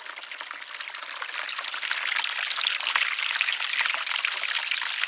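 A steady stream of water pours over the edge of a pond waterfall, its close, constant splashing swelling slightly louder partway through.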